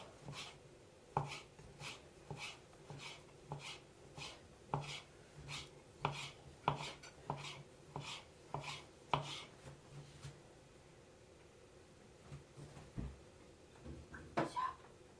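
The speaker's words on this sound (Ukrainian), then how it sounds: "ось так нарізаємо таку дрібненьку лапшичку" A knife chops homemade noodle dough finely on a board in a steady run of sharp, close taps that slow and scatter toward the end.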